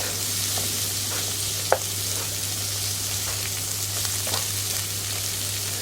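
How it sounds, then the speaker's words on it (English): Greek gigantes butter beans frying and being stirred in a pan, a steady close sizzle with soft scraping strokes and one sharper clink partway through, no voices. "add all that in there and give it a stir through yet again, so it all integrates"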